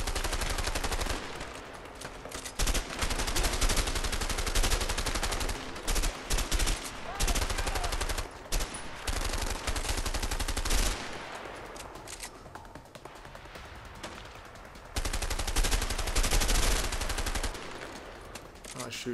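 Dense, loud gunfire from the video game A Way Out, sustained bursts and rapid volleys running almost continuously with brief gaps, with occasional voices underneath.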